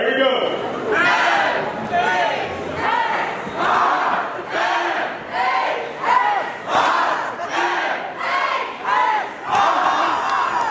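A high school spring rally crowd in a gym roars and chants in repeated loud surges, waves of cheering rising and falling, with an announcer's voice between bursts.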